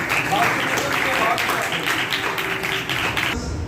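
Dense, loud applause from an audience at a Christian church seminar, continuous for about three and a half seconds before it cuts off.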